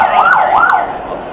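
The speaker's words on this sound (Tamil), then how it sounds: "இப்போ பார்த்தீங்கன்னா மீண்டும் ஒரு ஆம்புலன்ஸ் வருது" An ambulance siren wails loudly and close, its pitch rising and falling in a steady repeating sweep with no voices over it.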